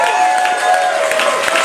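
Audience applause and cheering at a cruise closing cocktail party, a dense crowd clapping steadily throughout with a few voices mixed in.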